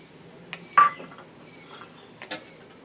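A few light clinks of metal utensils against a bowl while paneer (chhena) is mixed for paratha, sparse and fairly close with quiet gaps between taps and no talking.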